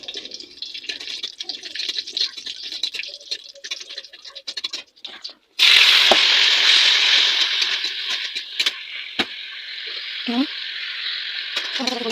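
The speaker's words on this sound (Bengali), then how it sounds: "দেখো 5 ফোড়ন আর শুকনো লঙ্কা দিয়ে দিয়েছি তেলে" Panch phoron and dried red chillies frying in hot oil in a home kitchen, a steady bright sizzle that jumps sharply louder midway and then holds, with a few scrapes of stirring.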